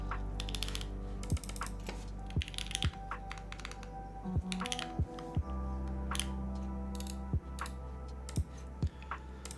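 Typing on a computer keyboard, irregular bursts of sharp clicks with spaced louder key strikes over a steady hum in the room.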